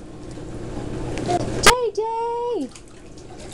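Water splashes in a sink as a small child plays in it, a brief burst of sloshing followed by a rising whistle-like tone, with a voice calling out nearby.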